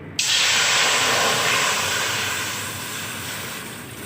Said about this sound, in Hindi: कढ़ाई में डालेंगे 1 लीटर पानी।